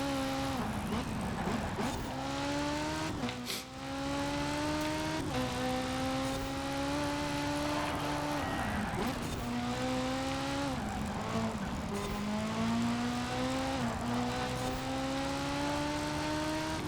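Lego cars race in a video game with a steady, droning engine whine that climbs and drops in pitch again and again through gear shifts, sustained and fairly loud throughout without talk.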